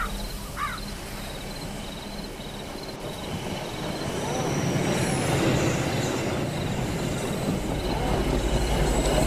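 A train rolls past a station in an Indonesian horror video game, its rumble and squealing wheels swelling louder and nearer midway, over a faint ambient background.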